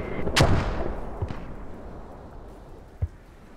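Mortar artillery fire in a video game battle: one deep, booming blast rolls out and decays slowly, followed by a fainter thump and a short, sharp distant report.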